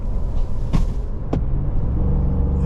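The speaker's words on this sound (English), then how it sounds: "This V8 is just grumbling away and sounding great with that tailpipe coming out the side" A 2022 Ford F150 Lariat Supercrew pickup's V8 engine grumbles with a low, steady rumble through its side-exit tailpipe while driving, accompanied by a couple of brief clicks.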